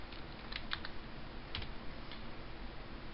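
Keys on a computer keyboard clack as a file name is typed, a handful of sharp close taps in small irregular bursts over a faint steady hiss, with no voices.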